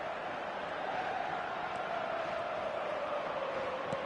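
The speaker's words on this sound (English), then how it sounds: "the crowd level has gone up a notch or 10" Crowd in an eFootball stadium roaring after a goal, a steady dense wall of cheering that holds at even loudness throughout, heard from a distance with no clear voices on top.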